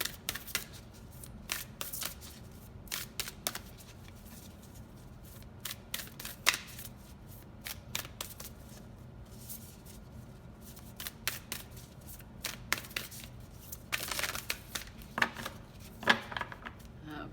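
A tarot or oracle deck is shuffled by hand to draw one more card, giving a steady run of riffling, flicking card snaps with brief pauses, close and crisp throughout.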